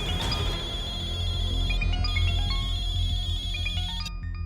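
A phone rings with a repeating electronic melody, steady and moderately loud over a low background hum, stopping abruptly near the end.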